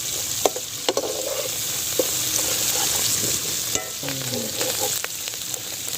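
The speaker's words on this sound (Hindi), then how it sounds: "अभी हम 1 चम्मच खाने का अदरक पेस्ट शामिल कर देंगे। इसको थोड़ा सा भून लेंगे।" Ginger paste sizzles and fries in masala for pumpkin chana dal over medium heat, a steady crackling hiss broken by occasional stirring scrapes, close and without talk.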